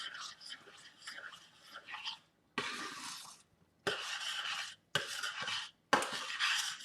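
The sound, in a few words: stirring tomatoes and mushrooms into a pan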